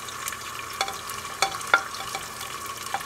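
Tomatoes and green chillies frying in a pan, a soft continuous sizzle broken by light irregular spoon clicks and scrapes, close but quiet.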